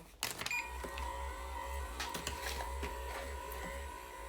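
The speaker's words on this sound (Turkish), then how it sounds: "Masaj kemeriymiş. Zayıflama destekli." A slimming massage belt's motor runs close by with a steady electric buzz and low droning hum, holding an even level throughout with faint clicks and rattles.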